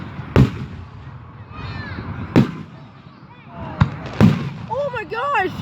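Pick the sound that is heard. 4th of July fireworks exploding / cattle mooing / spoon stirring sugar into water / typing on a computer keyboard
4th of July fireworks exploding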